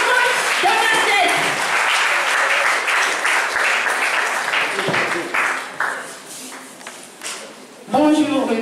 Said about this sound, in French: applaudissez pour le coach de Machette